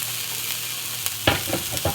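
Pan sauteing in a home kitchen, a steady close sizzle with a few sharp scraping stirs near the end, moderately loud, with no voices.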